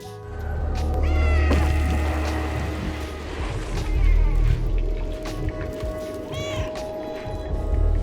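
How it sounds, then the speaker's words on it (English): Several cats meow in the video game Stray, a few drawn-out cries rising and falling over rumbling background noise and ambient effects. "We can hear our cat friends meowing and meow back"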